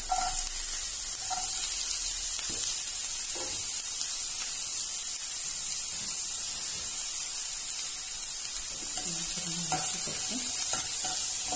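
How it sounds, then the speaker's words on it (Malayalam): Chopped onions hit about two tablespoons of heated oil in a pan while cooking a chicken-vegetable kurma, producing a steady hissing sizzle with occasional soft pops and stirring knocks throughout. "ഓയിൽ ചൂടായിട്ടുണ്ട്. ഉള്ളി ഇട്ട് കൊടുക്കാം."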